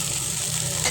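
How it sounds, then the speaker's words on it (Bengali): Onion frying in a pan with turmeric, chili, ginger, garlic and coriander, a dense close sizzle that holds steady through a brief moment, with no voices. "এখন পেঁয়াজটা একটু ভেজে হলুদ, মরিচ, আদা, রসুন, ধনিয়া দিয়ে মশলাটা কষিয়ে নিলাম।"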